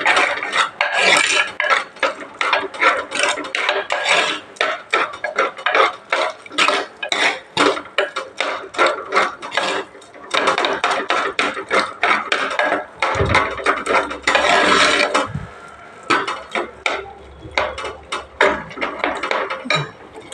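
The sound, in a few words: mashing cooked mango in a clay pot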